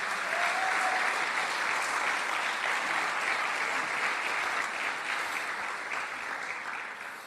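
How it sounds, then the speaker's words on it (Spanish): A church congregation fills the room with sustained applause, a dense even wash of many hands clapping that holds steady and then gradually fades out toward the end. "quisiera que me ayuden a dar un aplauso"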